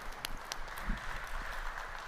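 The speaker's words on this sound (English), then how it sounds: "Give me a big round of applause" An audience at a B2B platforms and SaaS keynote applauds to welcome the keynote speaker: steady, fairly faint clapping from many hands, continuous and diffuse, with no voices.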